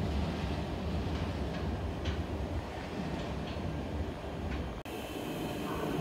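Trains rumble steadily through Den Haag Centraal station, a dense continuous roar of rail noise with faint wheel clatter, ending in a sudden shift to a brighter hiss.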